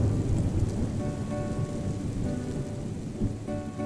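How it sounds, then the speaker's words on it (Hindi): Steady heavy rain pours down with a low rumble of thunder rolling beneath it, a dense constant hiss filling the whole stretch with no voices. "मुझे बारिश बहुत पसंद है।"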